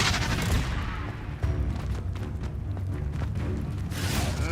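Confringo blasting spell in Hogwarts Legacy combat, a burst of rapid booming impacts and crackling explosions layered with battle noise, loud and dense, with a fresh swelling blast toward the end.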